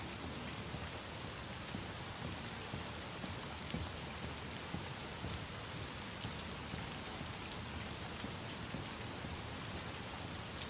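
Heavy rain falls continuously in the video game The Medium, a thick constant wash of noise with drops pattering on surfaces, no voices.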